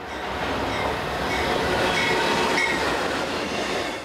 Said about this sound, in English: Here comes another freight train.